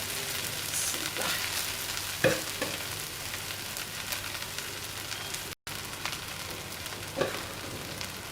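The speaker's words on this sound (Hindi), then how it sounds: "अब मैं इसमें ये इसका ये सालन डालूंगी जो मैंने कोरमा बनाया था चिकन टिक्की का" Chicken korma gravy, made with fried chicken tikka and quite oily, is poured into a pot over a lowered flame. It sizzles and hisses steadily up close, with a few stirring clinks and no voices.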